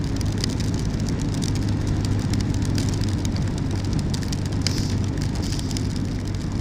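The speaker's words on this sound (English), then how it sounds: "I've got that much rain on my visor." Heavy rain drumming steadily on a motorcycle helmet visor while riding through Scotland, a dense, continuous close-up patter over low wind and road rumble, loud and unbroken, with no talk.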